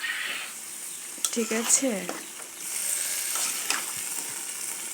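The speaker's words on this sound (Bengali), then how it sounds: "এই যে ঢেলে দিচ্ছি সবগুলো একসাথে" Vegetables are poured into a hot pan for a fish curry, setting off a steady frying sizzle with scraping and stirring clatter close by, while someone speaks briefly over it.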